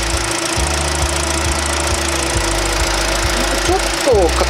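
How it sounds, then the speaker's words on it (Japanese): A BMW 3 Series touring engine idles steadily and close by, with a faint repetitive ticking rattle running under it and a brief higher whine near the end. "はい、エンジン音です。"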